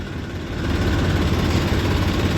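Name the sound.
Massey tractor engine running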